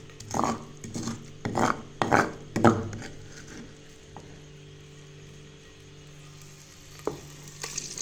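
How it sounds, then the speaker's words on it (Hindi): Onions hit hot ghee with a few loud crackling bursts, then settle into a steady soft sizzle with faint clinks, heard close in a home kitchen. "घी तकरीबन गर्म हो चुका है और अभी डाल देती हूँ इसमें मैं प्याज"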